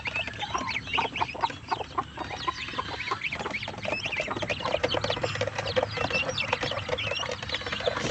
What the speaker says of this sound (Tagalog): Yan naman po ang tatay ng pabo.